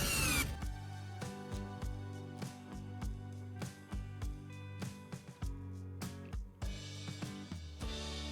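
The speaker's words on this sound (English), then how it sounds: "I'm using a drill to screw the capacitor into the block of wood." A power drill drives a screw through a capacitor into a wooden block, its motor whine steady and close, broken by short regular pulses as the screw bites and the trigger is eased.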